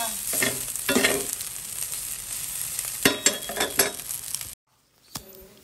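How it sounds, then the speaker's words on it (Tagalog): Tomatoes go into sizzling Filipino garlic fried rice (sinangag), with loud frying hiss, repeated spatula scrapes and clinks against the pan, then a brief silence and one last scrape. "Dilagyan ng kamatis ang sinangag."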